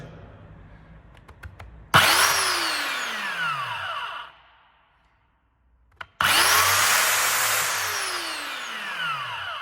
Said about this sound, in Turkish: Tetikten siz elinizi çeker çekmez testere duruyor ama motorun durması 1-2 saniye kadar sürüyor